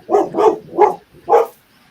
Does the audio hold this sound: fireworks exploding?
no